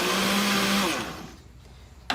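A blender or electric mixer whirs loudly, beating bread dough mixture with sugar and salt, then spins down and stops, followed by a short clunk.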